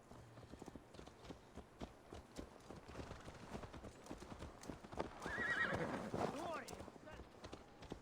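Horse in Assassin's Creed Valhalla, its hooves clip-clopping steadily throughout with a loud neigh and whinny near the end, heard over game music and ambience while a voice talks.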